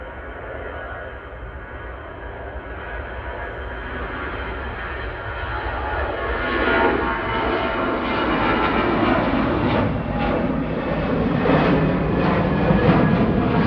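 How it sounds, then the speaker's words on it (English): EasyJet Airbus A320 Classic accelerating on its takeoff roll at Manchester Airport, a broad jet engine roar that swells steadily louder and closer across the clip, with no voices over it. "EasyJet 229 to Prague now. A320 Classic GZWR on the roll."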